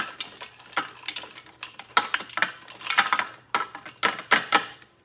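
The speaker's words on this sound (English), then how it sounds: "I'm gonna just pop them into my Thermomix with the help of my spatula" Frozen berries knocking into a Thermomix bowl with help from a spatula, a run of sharp close clicks and taps in irregular bursts with short pauses, no voice.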